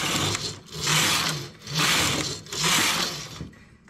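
A knitting machine carriage sweeps across the needle bed knitting rows, giving three or four rhythmic swishing passes with short pauses between them, close and fairly loud, with no voice.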